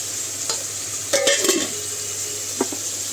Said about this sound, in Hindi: मैं इसमें ये मछली को फ्राई कर लूँगी